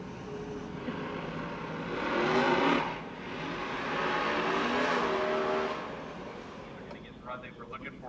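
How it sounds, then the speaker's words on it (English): A drag racing car at full throttle in the burnout box, a loud sustained engine roar that swells twice, with crowd voices and talk around it at a nitrous Camaro drag event. "Last LDR car full speed in the burnout box."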